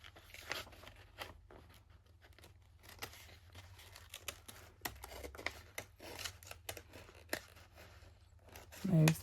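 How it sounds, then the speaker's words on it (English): Scissors snip through paper for a wedding journal craft project in a series of short, crisp cuts and rustles close to the mic, with a louder crinkle at the end. "Move the paper, not the scissors."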